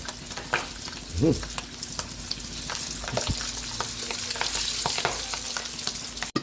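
Pork belly liempo frying in hot oil, a dense continuous sizzle with scattered pops and crackles throughout, loud and close with no talking.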